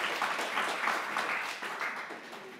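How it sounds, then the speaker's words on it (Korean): A room full of people applauding steadily at a Sunday church service, the clapping dense and even before gradually tapering off. "박수를 한번 보내야 됩니다"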